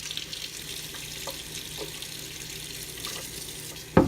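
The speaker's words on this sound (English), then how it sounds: "I'm going to fill this half-gallon jug with hot water out of the tap" Hot water runs steadily from a kitchen tap into a half-gallon jug, a continuous close hiss and splash with a few small clunks and a louder knock at the end, no voices.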